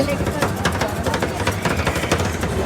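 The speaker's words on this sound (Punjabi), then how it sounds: "ਇਹ ਜੀ ਹੋ ਰਹੀ ਹੈ ਤਿਆਰ ਤਵਾ ਆਈਸਕ੍ਰੀਮ ਓਰੀਓ ਫਲੇਵਰ ਦੇ ਵਿੱਚ।" Oreo tawa ice cream is worked on a cold griddle in a shopping mall, with rapid rhythmic chopping and scraping of metal spatulas over a busy, noisy background hum.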